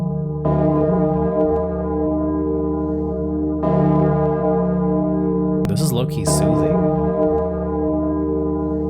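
A massive 15,684 kg bell tolls in two deep, sustained strikes a few seconds apart. Each strike leaves a long humming, layered ring that lingers, and a person speaks briefly over the resonance.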